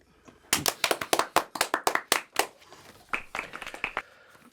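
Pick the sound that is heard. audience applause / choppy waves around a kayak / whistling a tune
audience applause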